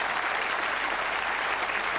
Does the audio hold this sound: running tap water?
no